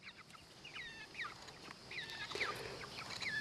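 Chickens in a chicken tractor on a rural property clucking in a series of short, fairly faint calls that repeat irregularly over soft outdoor background noise.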